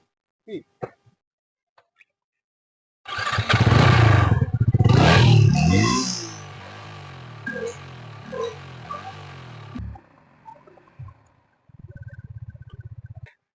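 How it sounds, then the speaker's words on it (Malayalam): A Yamaha XSR155 motorcycle is started, then revved hard a few times with a loud raspy exhaust note, settling into a steady idle with short blips; it is close and loud, with no talk over it. "XSRന്റെ ഒരു എക്സോസ്റ്റ് നോട്ട് നമുക്കൊന്ന് ശ്രദ്ധിച്ചാലോ"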